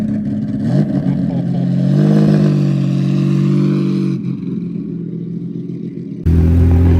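A loud, deep Lamborghini Diablo restomod engine roars nearby, its pitch rising and falling as it revs, then dropping back before surging again at the end.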